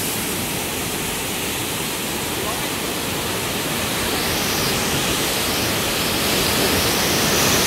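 Savatkada waterfall near Chiplun in the Konkan during the monsoon, a loud, continuous broadband roar of falling water that swells slightly toward the end, with no clear talk above it.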